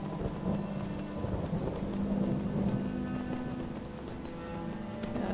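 Steady rain pours in a thunderstorm in the game Skyrim, with a deep, continuous rumble of thunder rolling underneath the dense hiss of falling water, no voices.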